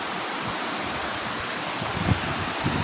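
Water spills about three feet deep over the Jam Khambhaliya dam, producing a steady, broad rush of falling water with a couple of faint knocks near the end.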